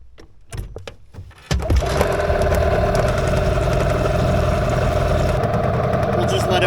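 Boat engine turning over and settling into a steady idle as it warms up on a lake, a rough sputter giving way to a constant, loud mid-pitched drone that runs to the end.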